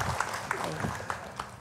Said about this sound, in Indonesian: Ibu-ibu tepuk tangan lagi